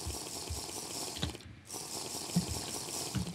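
Water sloshing and splashing in the Minecraft ocean as a player jumps in, a steady watery rush broken by a brief near-silent gap before resuming, with a few soft bubbly bumps.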